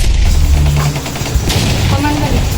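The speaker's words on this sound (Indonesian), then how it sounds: "Pasukan Amerika mendengar suara bom." Bombs and gunfire from a WWII Japanese attack on an American base ring out as a loud, dense barrage of rattling shots and heavy booms throughout.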